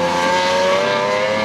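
A Lamborghini Diablo SV with an ANSA exhaust and downdraft V12 revs hard and loud, a steady high-pitched engine howl filling the whole moment with no talking.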